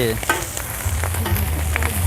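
Oyster omelette frying in a very large pan at a busy Thai hoi tod stall, a steady close sizzle with scraping and stirring throughout, no voices.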